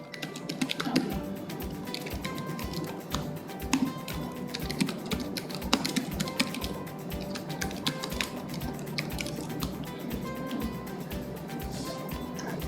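Rapid, steady keystrokes on a computer keyboard as a quiz name is entered, a continuous close clatter of clicks with no voices.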